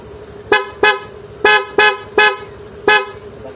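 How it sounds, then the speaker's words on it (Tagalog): A loud stock car horn honking in six sharp toots, a quick pair then more evenly spaced blasts, close and bright over a low idle hum. "Loud horn, stock horn."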